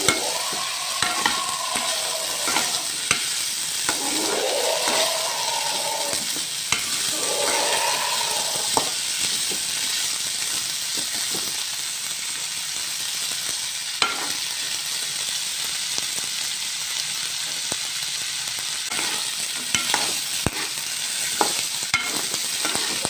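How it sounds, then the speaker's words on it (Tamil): Ginger sautéed and stirred in a pan for a ginger thuvaiyal chutney gives a steady close sizzle, with scraping spoon strokes and stirring clatter coming and going throughout. "இஞ்சியை வதக்கிக்கணுங்க. பச்சை வாசனை போகிற அளவுக்கு வதக்கிக்கணுங்க."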